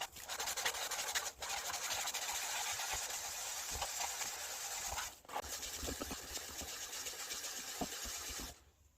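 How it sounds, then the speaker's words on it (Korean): Steady close-up rasping and rubbing of fine wet sandpaper, up to 5000 grit, on hard resin, continuous for several seconds with two brief pauses, no voices. "이제 물사포로 5000방까지 연마할 겁니다."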